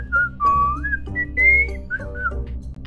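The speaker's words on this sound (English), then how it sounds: "Why are you whistling?" A person whistles a wavering, sliding tune in a scene from Among Us, a clear solo melody of several short rising and falling notes with no talking.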